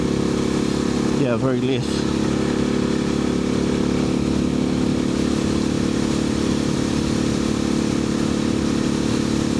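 KTM 690 SMC supermoto single-cylinder engine with an Arrow exhaust, a steady droning thrum while riding, heard under someone talking throughout.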